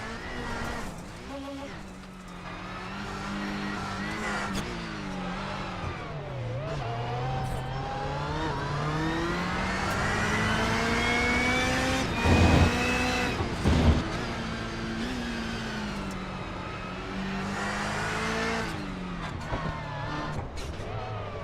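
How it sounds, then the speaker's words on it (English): Onboard engine roar of a Subaru rallycross car racing at Barcelona in the NASA Rallycross Challenge, revving up and down through gears with loud sustained acceleration and a couple of sharp bumps partway through. "let's take a minute and enjoy the sights and sounds here of this Subaru here in Barcelona."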